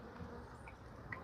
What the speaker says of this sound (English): I've captured another bee in there as well